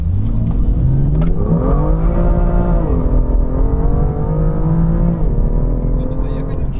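A BMW M2 launches from a standstill, its engine revving up through rising pitch with gear changes, loud and close throughout, with a voice speaking over part of it.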